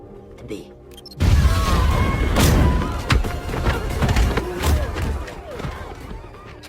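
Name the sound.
bomb explosion in a film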